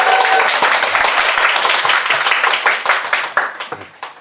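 Close, lively clapping from a small audience celebrating the completion of a book series, loud and dense at first, then thinning into separate claps toward the end.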